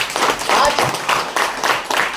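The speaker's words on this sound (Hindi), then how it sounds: "तालियां हो जाए" An audience at a leadership program breaks into brief applause, dense bursts of clapping rising and falling in waves over about two seconds.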